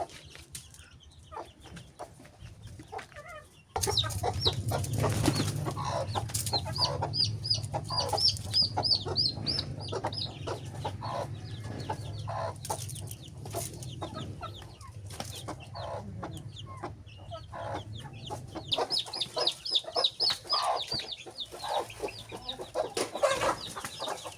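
A hen clucking repeatedly nearby while chicks peep in a busy, continuous chatter, with steady background noise throughout.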